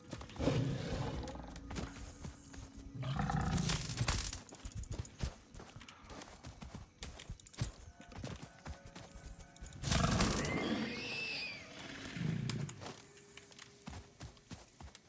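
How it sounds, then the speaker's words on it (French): A creature known as a lion in the Satisfactory video game lets out two loud, long roaring bursts several seconds apart, mixed with scraping, stomping game noises and no talking. "Il est là, le lion."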